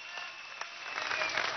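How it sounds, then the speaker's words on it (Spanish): Audience applause at a Venezuelan socialist missions rally received by the president, a brief burst of steady clapping from a crowd, fairly distant and even in level. "un aplauso a Patricia."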